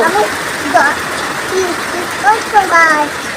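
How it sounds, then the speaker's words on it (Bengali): Steady hiss of heavy rain falling, with children's voices talking over it in short bursts. "দেখ কি বৃষ্টি হচ্ছে রে"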